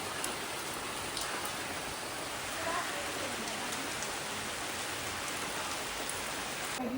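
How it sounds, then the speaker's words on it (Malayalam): Heavy rain pours steadily throughout, a dense, even hiss of drops hitting surfaces close by, with no voices over it. "മഴയെന്ന് പറഞ്ഞാൽ നല്ല മഴ."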